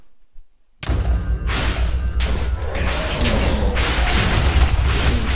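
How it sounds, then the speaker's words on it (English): A sudden loud boom goes off after a short quiet moment in the Minecraft modpack TPPI, and a long rumbling roar of explosions and crackling debris follows and holds steady. "I'm even going to stand in the room for the explosion"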